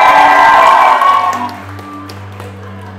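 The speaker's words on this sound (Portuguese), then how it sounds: "Uma salva de palmas" Applause and cheering from guests at a debutante ceremony in a palace venue erupt loudly, then fade after about a second and a half into a low hum with scattered faint claps.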